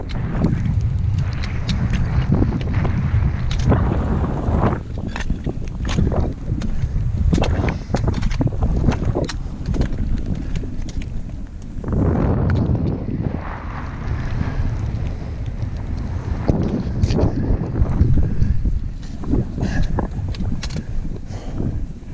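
Strong wind gusting across the microphone on a mountain pass, a continuous loud rumbling buffet that surges and eases throughout with no clear speech.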